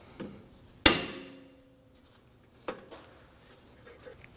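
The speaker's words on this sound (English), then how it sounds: "We're going to use a dead blow hammer to knock the bolt out." A dead blow hammer strikes a bolt on a 2013-2015 Subaru XV Crosstrek rear shock assembly: a sharp, heavy knock rings out once, then a softer second strike a couple of seconds later, with quiet pauses around them.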